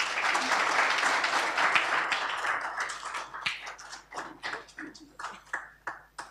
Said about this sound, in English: an extra round of applause for Dr.